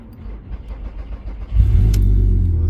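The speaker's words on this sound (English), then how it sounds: "So let's get car started and see if we've got some brakes." A quiet rustle gives way to an Audi TT 3.2 engine starting up, then settling into a loud, steady idle rumble close by; the car has binding brakes.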